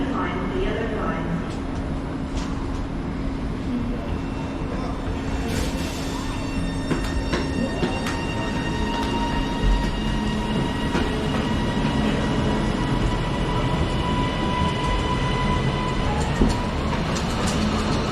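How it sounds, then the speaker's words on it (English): A train passes through Preston station platform with loud rumbling wheels and rail clatter building and holding, and a platform announcement voice is heard over it. "Comes 1441 Avanti West Coast service to Glasgow Central."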